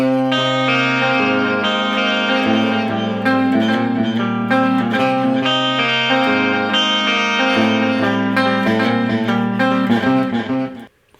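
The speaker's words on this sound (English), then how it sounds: "With the delay and the chorus effect, it sounds like this." Clean electric guitar picking a song intro, run through delay and chorus, a steady shimmering arpeggiated line with sustained low notes that rings out for about eleven seconds before cutting off.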